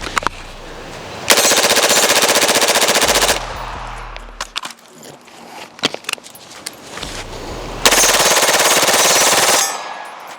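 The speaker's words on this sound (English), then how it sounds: "we're gonna go back to back as quick as I can, full super safe mag dump" An H&R rifle fitted with a super safety trigger is fired as fast as possible in two long, loud rapid bursts emptying the magazine, separated by a pause with clattering handling noise.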